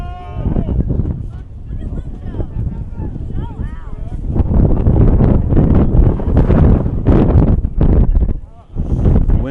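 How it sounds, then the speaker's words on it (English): Strong gusty wind buffeting the microphone at an outdoor high school boys' soccer game, a loud, continuous roar that swells and dips, with a commentator talking over it. "The wind has picked up here, as you might be able to see from the camera that's shaking a little bit here."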